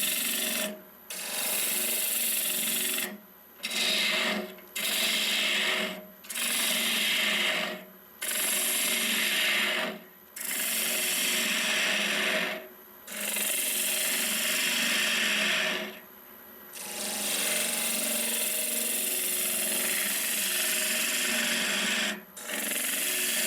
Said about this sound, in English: Still only cutting with the tip of the heel, not the wing, just the tip.